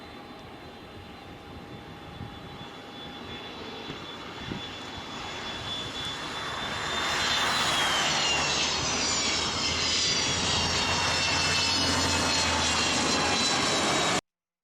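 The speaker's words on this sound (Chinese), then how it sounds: "这就是它打开反推的样子。" A Boeing 727 jet lands, with engine noise swelling loudly as the thrust reversers deploy and then holding a sustained, heavy roar that cuts off abruptly.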